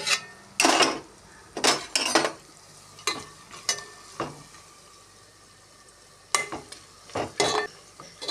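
Onions frying in a pan during biryani cooking, heard as a few sharp bursts of stirring and sizzling separated by quiet gaps, close and fairly soft.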